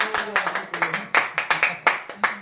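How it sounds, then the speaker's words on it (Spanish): Clapping rings out in a church after a song, with sharp, fairly regular hand claps in a brisk rhythm from a small group and a faint low tone beneath. "Un aplauso para la hermana Lucía."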